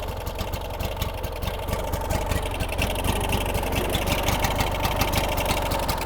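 A free second-hand ride-on mower with a 19 horsepower engine idles steadily while warming up after starting, a close, continuous rumbling chug with no talk over it.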